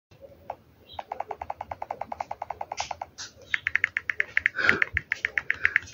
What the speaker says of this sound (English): your keyboard will sound like this